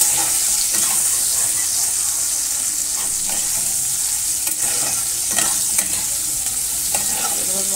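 Drumstick stems fry with turmeric and spices while being stirred, giving a steady, loud broadband sizzle with scattered scraping strokes of the spoon throughout.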